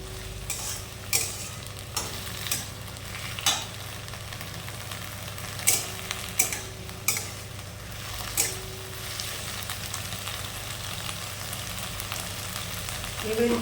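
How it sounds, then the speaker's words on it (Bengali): Okra and onion stir-fry in a pan, with a continuous sizzle and regular spatula strokes scraping and tapping every second or so, close and clear. "ভেন্ডিটা পেঁয়াজের সঙ্গে ভালো করে নেড়ে নিয়ে"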